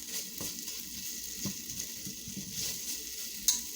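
Garlic cooks in a pan with a soft, steady sizzle and crackle, fairly faint and close, with a sharper tap near the end and no voices.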